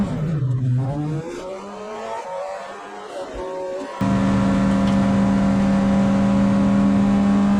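A Puma Cup race car at Silverstone circuit, its engine droning loudly and steadily with rising and falling revs through gear changes, heard from on board with a sudden jump to a louder, sustained high-rev roar.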